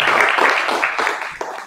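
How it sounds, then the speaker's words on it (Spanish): Church congregation applauding after a prayer during an evening sermon, a dense wash of clapping that holds steady then gradually thins out, with a few stray claps near the end. "Dele fuerte el aplauso."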